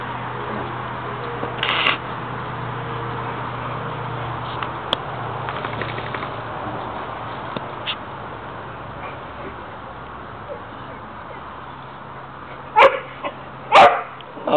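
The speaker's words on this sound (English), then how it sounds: "Oh, don't start barking." Dogs bark outdoors in two loud, close bursts near the end after a stretch of quieter rustling background.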